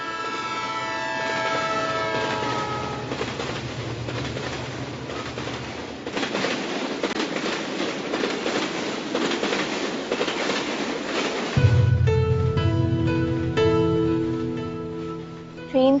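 A train pulls out of a station. Long harmonic horn blasts sound at the start and again near the end. Between them runs a steady rumbling, clattering rail noise, with no talk.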